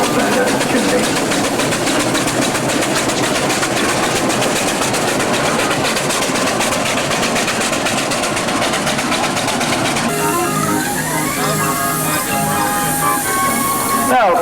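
A steam traction engine working hard at a traction engine rally in Langport, Somerset, chugs and roars steadily at close range, with a dense rhythmic chimney exhaust beat and clanking machinery throughout, the tone shifting in the last few seconds.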